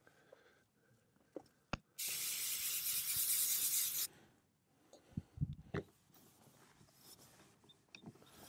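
An HVLP spray gun sprays paint onto an arcade cabinet in a steady, loud hiss lasting about two seconds, set among scattered clicks and handling noises before and after.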